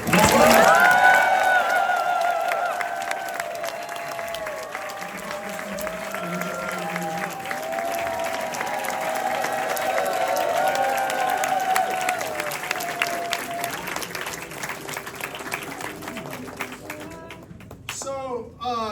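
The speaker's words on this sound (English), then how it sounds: "Please make some noise for Congresswoman Jill Takuda from Hawaii" Loud crowd applause at a political rally, with scattered cheers and whoops, sustained throughout and fading slightly toward the end.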